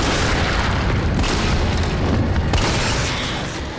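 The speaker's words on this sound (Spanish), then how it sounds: "la escopeta de Jill haciendo lo suyo" A loud, close boom of Jill's shotgun in the Resident Evil 3 Remake game fills the moment, a heavy blast whose rumble sustains and then slowly tails off.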